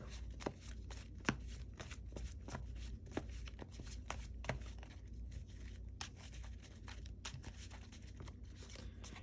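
A Yu-Gi-Oh trading card deck in Goat format is shuffled by hand on a table, giving close, continuous riffling with repeated sharp card snaps and taps.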